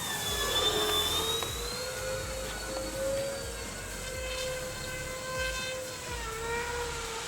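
An E-flite EC-1500 Twin RC plane flies overhead with a steady, high electric whine from its twin motors, the pitch sliding as it passes and turns, moderately loud against open-air background.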